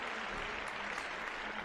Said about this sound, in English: here's a big round of applause for